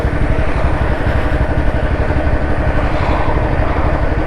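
A Royal Enfield BS4 Standard motorcycle with 43,000 km on it rolls slowly in top gear. Its single-cylinder engine gives a steady, loud, low thump that runs continuously and close up with no talk.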